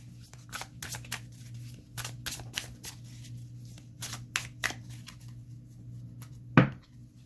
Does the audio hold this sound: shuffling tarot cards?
yes